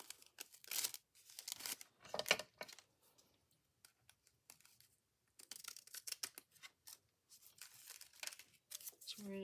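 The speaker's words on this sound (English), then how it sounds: "So now I have to cut this hinge so that it will fit this bag." Scissors cut through a paper hinge for a handmade paper bag journal, giving soft, crisp snips and rustles in two separate clusters with quiet gaps between them, close to the listener.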